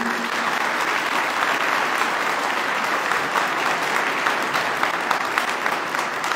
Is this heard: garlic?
no